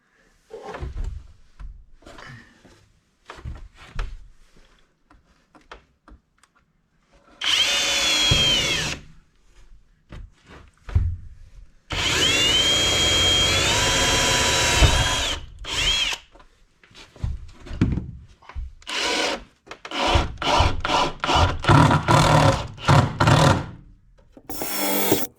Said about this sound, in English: I'm just going to drill through these cross members here and put a screw in it.